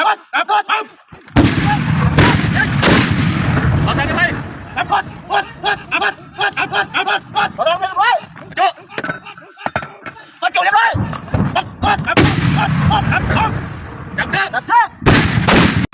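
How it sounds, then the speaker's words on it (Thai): Artillery cannons fire in a Thai army demonstration, heavy booming blasts recurring through the clip with crowd noise and talking around them. "ยิงปืนใหญ่ เล็งเป้าหมายเสร็จลูกกระเบิดยิงตั้ม"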